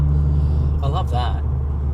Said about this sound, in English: That's my over 40s exhaust.